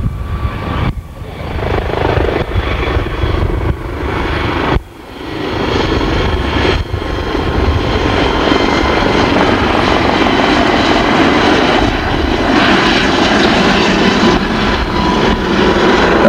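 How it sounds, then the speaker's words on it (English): A helicopter with a shrouded multi-bladed fenestron tail fan at an air show gives a loud, steady whining roar with a buzzy, saw-like edge, sustained across the whole stretch with brief dips as it moves. "This has a shrouded multi-bladed fan in the tail called a finestron. It sort of sounds like a bandsaw cutting through tin."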